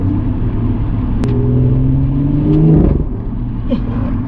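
A BMW M140i with its catalytic converters removed revs hard up close, a loud deep rumbling exhaust that climbs in pitch, holds, then drops back, with no voices over it.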